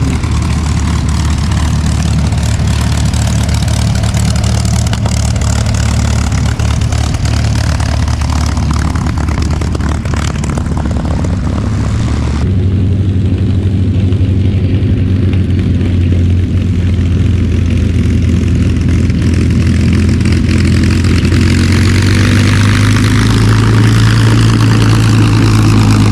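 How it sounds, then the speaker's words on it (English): North American P-51D Mustang warbird taxiing past on a paved taxiway at the Oshkosh AirVenture airshow, its piston engine running as a loud, steady propeller drone throughout with a deep rumbling idle. "P-51D Sweet Revenge has just landed and will taxi right by me."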